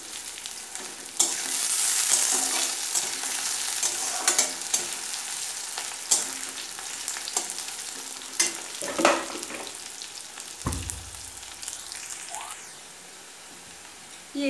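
Whole spices fry in hot oil in a pan for a jackfruit curry: cinnamon, cardamom, cloves and black pepper. A soft continuous sizzle, close up, is broken by scattered crackles, pops and stirring scrapes.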